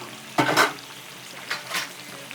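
Banana flower cutlets hit hot oil with two quick bursts of sizzling and spattering, close and fairly loud, fading to a soft crackle in between.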